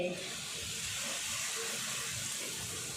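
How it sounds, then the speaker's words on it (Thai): A pot of Thai chu chee curry boils hard over high heat as mackerel goes in, giving a steady, close rushing hiss and bubbling that holds evenly throughout with no voices. "เดือดหรือยัง ใส่ปลาทูลงไปเลย"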